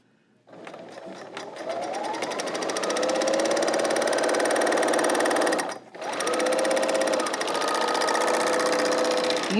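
A Juki L890 serger runs while stitching, a loud, fast, steady mechanical hum with rapid ticking that starts abruptly, breaks off briefly near the middle, then resumes.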